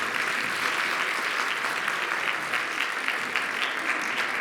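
A concert audience gives sustained applause, many hands clapping in a thick, uniform roar that holds steady and loud throughout.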